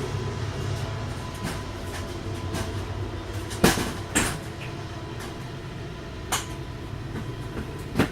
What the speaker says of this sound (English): There's a train, just a second.